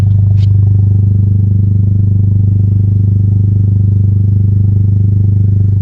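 Toyota GR Corolla with a 2J-Racing exhaust idling, recorded close to the tailpipe: a loud, steady low rumble with a pulsing drone and a brief faint clatter near the start.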